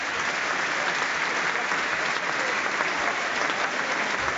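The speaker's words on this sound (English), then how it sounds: "An applause there for the Dundee Schools pipe band." Stadium crowd applauding the Dundee Schools pipe band before a Dundee versus Rangers football match on a remembrance day; dense, continuous clapping from a large crowd, loud and even throughout.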